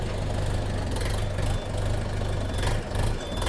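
A DTZ 5404 tractor's engine runs close by with first gear engaged, a loud, steady low diesel rumble with a rhythmic knocking pulse.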